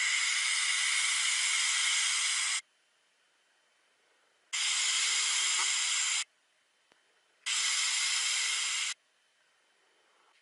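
A vape with a rebuildable dripper atomizer fires a single coil at 40 watts, giving three loud bursts of steady hiss separated by short silences, with no talking.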